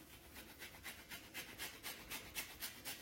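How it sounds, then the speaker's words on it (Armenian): Orange peel is scraped across a kitchen grater in a steady rhythm of about a dozen rasping strokes, close and even, with no talking. "Կիտրոնի հյութը ավելացնելուց հետո քերիչով անցկացնում եմ նարնջի կեղևը, նարնջի քերուկը։"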